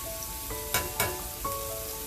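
A shrimp and sausage gumbo base cooks in a pot with a soft, even sizzle, broken by a few sharp stirring scrapes over a faint steady hum.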